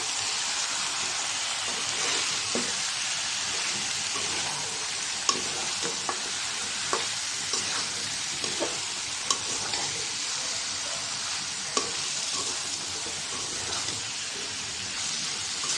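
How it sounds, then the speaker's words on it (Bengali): Chicken meat being stir-fried bhuna-style in a pan sizzles steadily and loudly, a continuous hiss broken by occasional soft clicks of stirring. "তো গোস্ত আমি ভালো করে কষাই নিব তারপরে ঝোল দিব"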